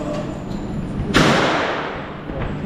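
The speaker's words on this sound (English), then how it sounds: "It's so loud. It's like clack, clack, clack, clack. So that shotgun." A single shotgun blast at a shooting range in Thailand: one sharp, heavy report with a long fading tail, set against a low background of range noise.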